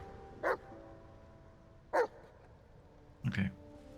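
Three separate short barks from a dog in the video game Baldur's Gate III, spaced about a second and a half apart over a faint background hum, the last one lower and rougher.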